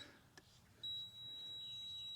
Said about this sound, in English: That beep is because it's high.